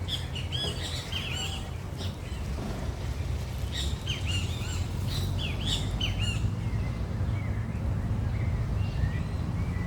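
Birds singing in trees in a breeze at a camp in Belmopan, Belize: repeated bright chirps and short whistled phrases over a steady outdoor wash of wind, moderately near and without talk.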